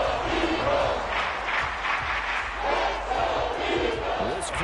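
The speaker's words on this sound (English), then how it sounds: "This crowd doing all they can." Football stadium crowd roaring near the goal line before a third-and-goal play, a dense sustained wall of cheering and yelling with surging swells.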